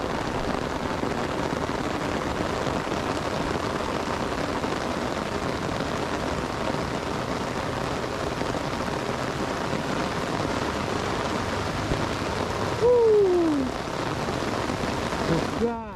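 Steady, heavy rain pours down at the Dok Krai reservoir, a dense, continuous hiss close by that fills the whole stretch, with a brief tonal whine near the end.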